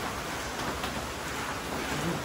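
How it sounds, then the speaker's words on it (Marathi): Heavy, wind-driven rain falls on a monsoon trek to Nageshwar as a dense, steady roar that fills the whole stretch with no voices. "तर निघालोय आणि माझी मजूत फाटायला लागले, कारण इथला पाऊस बघा, वन साईड करून पाऊस आहे।"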